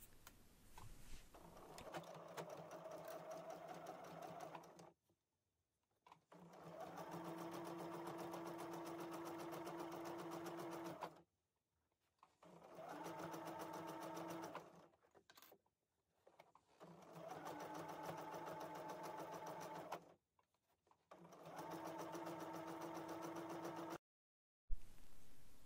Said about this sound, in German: Die beiden Teile nun also mit 1 cm Nahtzugabe aufeinander nähen.